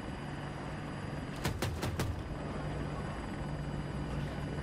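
Apache attack helicopter flying in Battlefield 2042, a steady low rotor drone throughout, with a brief sharper burst of impacts near the middle.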